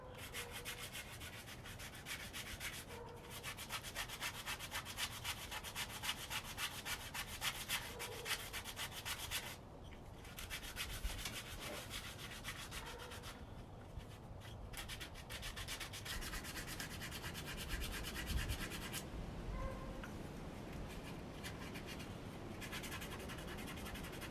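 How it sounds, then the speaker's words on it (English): Steady rubbing scratch of sandpaper worked over a hand-carved wooden spoon, continuous and close with brief pauses as the strokes shift along the curve. "after you've sanded the bottom of the spoon and the neck, you're going to move into the actual spoon itself"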